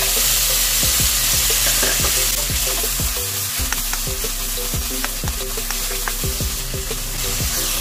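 Garlic and tomatoes fry in a pan for pinakbet, sizzling loudly and continuously up close, with scrapes and clinks of a utensil stirring them at an irregular rhythm.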